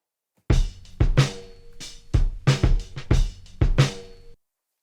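A short looped drum break sample plays, punchy kicks and snares with crisp hi-hats in a tight groove, cutting off abruptly at the end.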